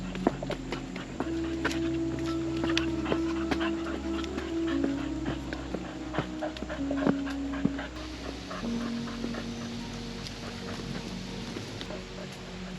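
A dog panting rhythmically while pulling a walker up a trail in Bill Yeck Park, Centerville, Ohio, close and continuous, mixed with footsteps and outdoor ambience.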